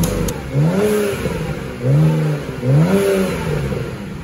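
A BMW biturbo engine with a full stainless exhaust and its valve closed revs in three rising pulls between idle stretches, loud and close.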